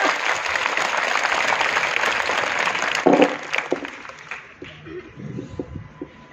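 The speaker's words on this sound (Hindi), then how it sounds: "किसने बोला ताली बजाने की?" An audience in a classroom applauds in a dense burst of clapping that thins out and fades over a few seconds, with scattered claps and faint voices at the end.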